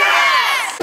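A school crowd of students cheers and shouts loudly all together, a sustained dense roar of many voices lasting under a second before cutting off.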